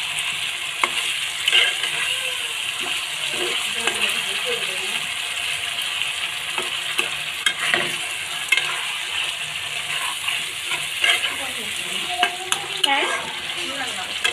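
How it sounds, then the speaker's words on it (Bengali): Fish, tengra in spice masala, stirred in a pan: continuous sizzling with frequent spatula clinks and scrapes, and a voice speaking briefly over it. "মাছটাকে নাড়াচাড়া করে নিচ্ছি এখন"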